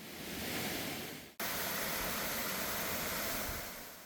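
Songdam Waterfall in Songchu pours water over a broad rock face, making a steady, fairly faint full-band rushing hiss with one abrupt brief dropout partway through.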